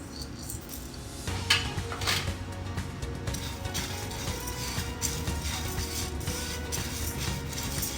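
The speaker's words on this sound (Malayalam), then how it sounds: "അടി പിടിക്കാണ്ട് ഒരു മീഡിയം ഫ്ലെയിമിലൊക്കെ വെച്ച് ഇത് ഇളക്കിക്കൊണ്ടിരിക്കണം" Urad dal roasting in a hot pan over a medium flame is stirred continuously, giving a steady dry rattling and scraping with a few louder clinks, and no talking.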